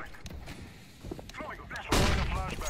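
Gunfire rings out at mid in a CS:GO match: scattered muffled shots and thuds build to a loud close burst near the end, under a voice talking.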